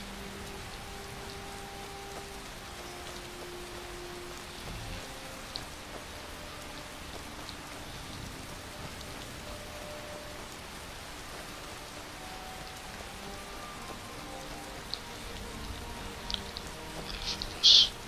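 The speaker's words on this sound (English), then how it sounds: "in the rain" Steady rain falling in Skyrim, a soft continuous patter and hiss that stays fairly faint throughout, with a few faint tonal cues and small knocks near the end; no talking over it.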